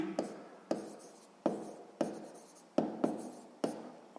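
Pen strokes on paper during a sixth-grade maths exercise, with short scratchy marks that start sharply and trail off, repeated in an irregular rhythm at close range with no speech.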